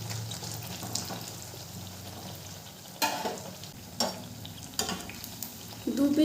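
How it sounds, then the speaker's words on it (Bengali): Malpua batter fries in oil in a kadai, giving a steady close sizzle broken by a few sharp clinks and scrapes of a spatula against the pan. "দু পিঠ ভালো করে ভাজা হয়ে গেছে।"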